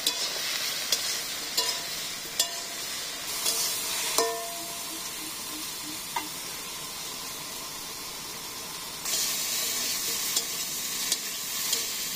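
Onions frying in a pan over a village stove in a Bangladeshi home kitchen, with steady hissing sizzle, occasional clinks and scrapes of a stirring spoon, and a louder burst of sizzling near the end.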